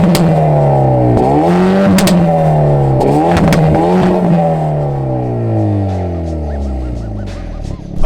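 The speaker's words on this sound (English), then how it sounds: "it turns the exhaust into a raspy, angry, pissed off" Hyundai Veloster N with its exhaust set to a raspy, angry WRC-style tone, revving hard in loud repeated sweeps up and down with crackles between, close by and running unbroken for about eight seconds.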